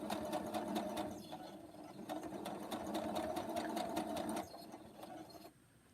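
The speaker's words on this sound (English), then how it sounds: "Watch the sewing machine." A sewing machine runs steadily at close range with a fast mechanical whirring and clatter, then slows and stops near the end.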